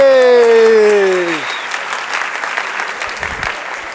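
An audience at an evening university communication-week talk claps to welcome a speaker onto the stage. The applause is dense and steady and fades toward the end, and at the start a voice with a strong sustained tone rings over it.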